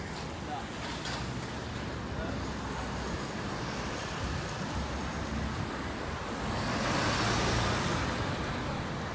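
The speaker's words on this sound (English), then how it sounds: "While we're waiting for the traffic along Earl's Court Road to clear and allow us across" Road traffic on Earl's Court Road in London, a continuous near wash of passing car and vehicle noise that swells louder as something passes close near the end, heard from the roadside.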